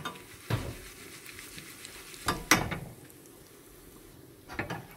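Dry red chilies and asafoetida fry in a pan of oil for a tempering. The oil gives a faint, steady sizzle, and a few sharp clinks of a spoon against the pan stand out above it.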